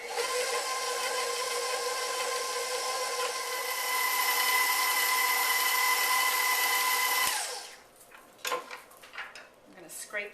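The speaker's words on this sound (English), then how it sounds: "Turn the mixer on and mix this all together." Electric kitchen mixer whirring steadily through spinach squares batter with cheese, a loud continuous motor hum that cuts off abruptly, followed by scraping and clattering against the bowl.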